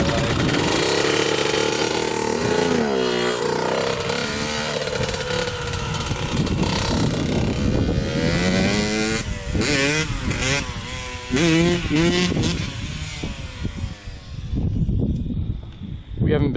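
A Yamaha MX 175 dirt bike ridden hard beside a newer dirt bike, its two-stroke engine loud and close, repeatedly revving up and down with a rasping, buzzing tone, with voices talking over parts of it.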